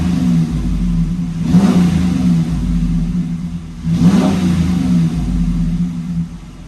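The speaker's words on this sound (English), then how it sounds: "truck running, revving it" A stock Hemi-powered Ram truck running E57 ethanol revs twice, its deep engine rumble surging and falling back to a steady idle, close and loud with no talking.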